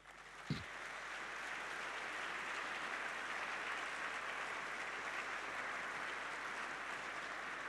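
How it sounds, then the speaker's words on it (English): Audience at a university conferment and professor installation ceremony breaking into steady, even applause that fills the hall, moderately distant, following a single sharp knock at the start. "Please give a warm applause"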